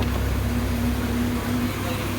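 An old Japanese Yanmar GC80 combine harvester engine runs at a steady, continuous drone with a faint, constant hum, close by and alone.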